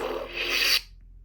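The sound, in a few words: toy lightsaber shutoff sound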